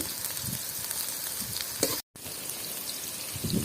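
Capsicum frying in a pan for Gobi Manchurian gives a steady, moderate sizzle with soft stirring scrapes. A brief dropout occurs midway, and the frying carries on alone without talk.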